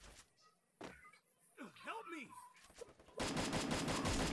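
Gunfire in a Free Fire Clash Squad match breaks out in the last second as a dense, rapid burst of loud shots. A single sharp shot comes earlier, and someone talks over the quieter stretch before the burst.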